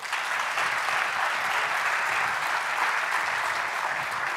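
Steady, dense applause from an audience at a software conference session, a continuous wash of many hands clapping at even loudness throughout with no talk over it.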